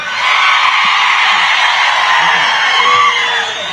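A large political rally crowd roars with sustained cheering, whooping and yelling, loud and continuous, dense with many voices blending together.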